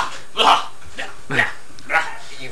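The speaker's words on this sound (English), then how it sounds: "the dog's playing" A dog barks while playing, giving three short, loud barks spaced about a second apart, with people's voices mixed in around them.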